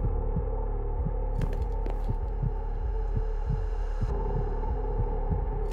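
A steady, low heartbeat thumps in Minecraft: From The Fog, regular paired pulses under a droning hum, with no talk.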